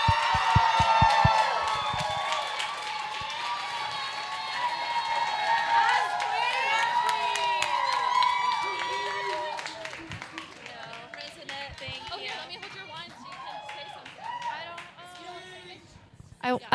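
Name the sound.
applause for an award winner at a holiday party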